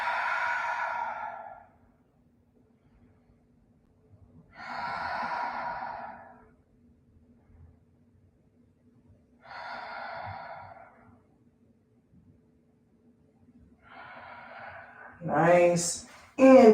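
Slow, deep breaths taken during a yoga session in sphinx pose, four long airy exhalations spaced a few seconds apart, close and soft in an otherwise quiet room, followed by a brief louder sound at the end.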